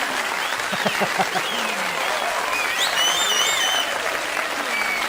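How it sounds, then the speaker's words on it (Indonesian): Wedding guests clap for the couple's wedding kiss at a party, a steady, dense applause filling the room with some cheering and voices mixed in. "Tepuk tangannya yang kenceng dong semuanya."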